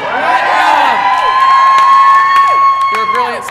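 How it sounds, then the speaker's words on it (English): An open-stage audience cheers and whoops loudly for a performer, a sustained crowd roar lasting several seconds with shouts rising above it. "Cheer for him."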